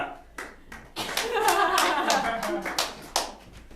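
An audience at a live improv theater show claps to vote, starting with a few scattered claps then swelling into a dense burst of applause that tapers with sporadic claps, fairly near with some low voices.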